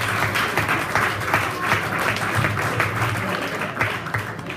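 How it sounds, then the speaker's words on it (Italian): Applause from a crowd at a Parma supporters' club festival, steady dense clapping with a few stronger accents, fairly loud and continuous. "un grande applauso credo che"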